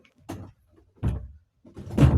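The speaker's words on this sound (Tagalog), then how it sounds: "Sarado mo pinto." A door is shut in three short knocks and bumps, spaced out and close by, with the last one the loudest and heaviest, and no speech over them.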